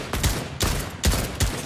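Sniper fire in the Fortnite video game: four sharp, loud shots about half a second apart, each with a short booming tail, with no talking.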